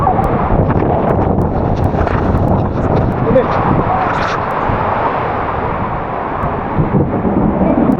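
Heavy rain and storm wind buffet the outdoors near the sea, a loud continuous roar and rush with gusting wind on the microphone and a voice talking over it.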